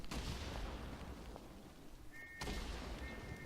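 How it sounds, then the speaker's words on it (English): Artillery fire in the World War I shooter Verdun, heard as distant rumbling booms and crackling bursts under a steady battlefield wash, with a sharper impact near the end. "It missed, didn't it? That's artillery."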